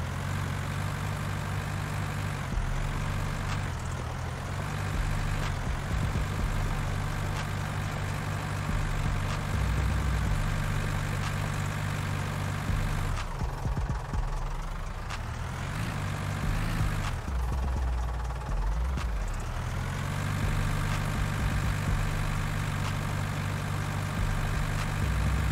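A tractor engine from the Farming Simulator 19 video game drones steadily at a low idle throughout, with a few shifts in pitch as the revs change briefly, loud and close with no talking.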